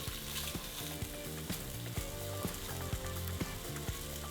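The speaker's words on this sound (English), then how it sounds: "fry the chicken until it's white all over" Steady, dense sizzling of chicken frying in a hot pan, with rhythmic low knocks like stirring, continuous throughout.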